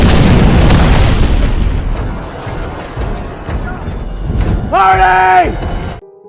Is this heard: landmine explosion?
yes